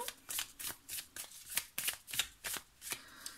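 Tarot cards are shuffled by hand in a quick run of crisp riffling bursts, close and fairly quiet, with no talking.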